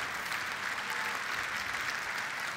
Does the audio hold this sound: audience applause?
yes